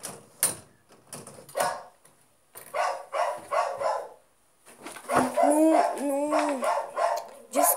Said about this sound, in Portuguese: Desculpa, gente, por causa do meu, do meu cachorro. Ele late toda hora quando eu tô gravando